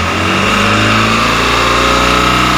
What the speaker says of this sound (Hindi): एक्सीलेटर देते हैं,